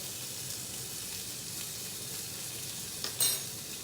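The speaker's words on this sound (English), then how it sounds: "I'm grilling or sauteing a half of a rack here" A half rack of lamb sizzles steadily in a pan as it is sautéed, a constant bright crackle near at hand, with a brief clatter toward the end.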